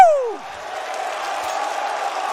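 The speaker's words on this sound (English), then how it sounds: "The crowd absolutely loving that one." At a CS:GO StarSeries quarter-final between NaVi and ENCE, the arena crowd roars and cheers in a steady, fairly distant wash after a brief falling voice, holding at an even level.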